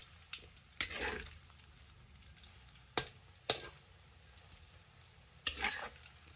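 Sweet potato strips deep-fry in a wok of oil, a soft, steady sizzle punctuated by several sharp clinks and scrapes as they are stirred.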